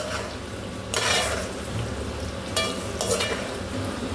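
Small shallots and okra fry in oil in a pan for a tamarind curry, a steady crackling sizzle that swells in bursts as pieces are stirred, close and fairly loud with no voices.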